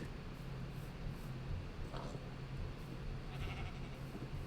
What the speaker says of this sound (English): Oh, sheepy sheep.